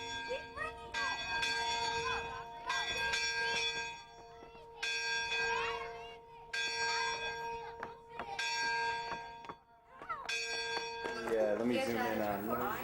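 A school bell rings repeatedly in a steady swinging rhythm at a school's 100th anniversary celebration, loud and resonant with lingering tones, while people chatter softly nearby.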